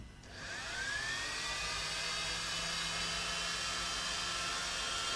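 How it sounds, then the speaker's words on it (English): A Dremel rotary tool runs steadily at high speed for the whole stretch, a loud whining buzz that rises slightly in pitch after spinning up, heard close with no talking. "more Dremel noises, guys."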